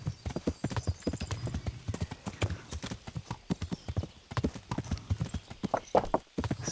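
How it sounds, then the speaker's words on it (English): Horse hooves clip-clop in the medieval game Kingdom Come Deliverance, a steady, close, continuous trotting rhythm of hard strikes running throughout, with a brief whinny-like accent near the end. "I think it will be better if we go on the horse."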